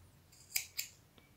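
Scissors cut crochet yarn with two quick, crisp snips close by, followed by a fainter small click, in an otherwise quiet room.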